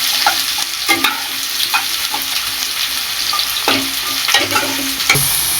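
Potatoes fry in a pan for a Bengali pumpkin-greens chorchori with poppy seed, a continuous loud sizzle broken by repeated scrapes of a spatula stirring the pieces.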